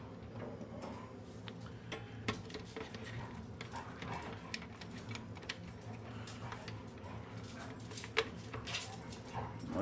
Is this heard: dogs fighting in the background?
yes